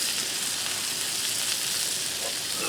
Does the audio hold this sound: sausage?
yes